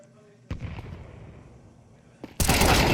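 Counter-Strike gunfire rings out as a sharp shot followed by a decaying tail, then a second close burst that erupts into loud sustained noise, with a commentator talking over it.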